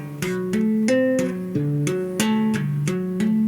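Bass guitar notes tapped with the right-hand middle finger in a quick repeating pattern, each attack crisp and percussive, cycling through a low seventh-chord arpeggio about three notes per second.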